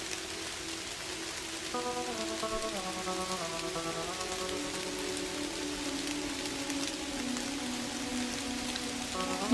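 Steady rain falling in the video game Kathy Rain, a continuous hiss running throughout, with a sustained melodic music line layered over it and no voices.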